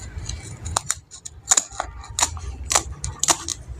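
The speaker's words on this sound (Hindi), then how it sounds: "आप कैंची की मदद से भी ये काट सकते हैं।" Sharp scissors snip through curtain fabric along a marked line in a steady series of crisp, close cuts, each clean and distinct, with no talking over them.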